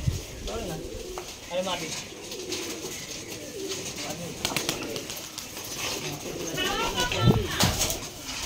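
Rajshahi Giribaz pigeons coo in repeated throaty, rolling calls, several bursts rising and falling close by, while people talk over and between them.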